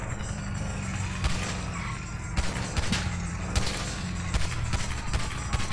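Gunfire in the video game GTA Online during a police chase, a dense fusillade of repeated shots and thuds layered over engine and crash noise, loud and continuous throughout.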